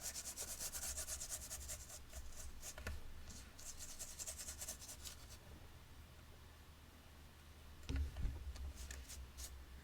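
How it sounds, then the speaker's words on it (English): Ink brushed over the raised high points of an embossed card, a steady soft rubbing and scratching of bristles on textured cardstock with a few brief knocks, close and quiet, no voices. "brushing it right on, trying to hit all those high points on this embossing"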